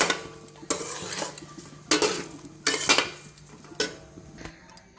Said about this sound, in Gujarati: હવે બધું કમ્પ્લીટ મિક્સ કરી લઈશું